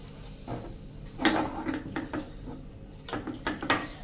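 Chutney stirred in a pan with the gas turned off: soft scraping and clinking of a spoon against the metal pan in short irregular strokes, faint and close, with no voices.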